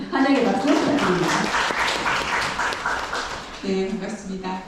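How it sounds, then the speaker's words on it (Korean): Audience clapping to welcome a speaker at a seminar on suicide prevention among women, a brief burst of applause in a hall, with talking before and after it. "다시 한번 환영의 박수 부탁드립니다"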